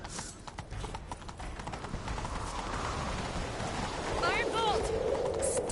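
Galloping horse hooves in The Witcher III, a continuous rapid clip-clop at moderate level, with a brief whinny-like call and voices in the background.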